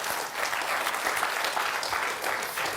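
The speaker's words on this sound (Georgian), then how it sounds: "აპლოდისმენტები" Studio audience on a television quiz show applauding, a dense continuous clapping that holds at an even level from start to finish with no talk over it.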